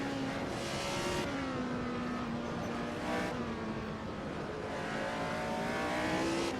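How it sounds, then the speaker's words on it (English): Lotus Formula 1 race car in a racing video game, its engine droning at high pitch with repeated downshifts and rev changes, loud and steady throughout with no talk. "have to be mindful of not downshifting too early, otherwise the rear will lock as it did just now."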